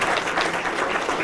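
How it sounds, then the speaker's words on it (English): A police awards audience claps in a steady, dense round of applause, loud and close, with no pauses across the short burst. "And I want to give them a round of applause for it."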